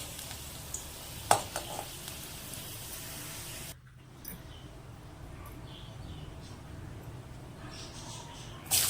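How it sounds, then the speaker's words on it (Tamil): Garlic fries in hot oil in a kadai with a faint, steady sizzle. The sound drops out briefly, then returns as a soft crackle, with a few small clinks. "ஆயில் சூடானதும் பூண்டை சேர்த்து நல்லா ட்ரை ஃப்ரையாக வறுத்து எடுத்துக்கோங்க."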